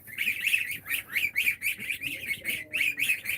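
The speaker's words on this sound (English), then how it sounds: "these are the new geese." Two-week-old goslings on a mountain farm fuss with a steady run of high, shrill peeping calls, close by and loud, in quick repeated bursts with no talk.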